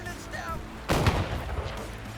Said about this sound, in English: Oh no, they're doing like airstrike.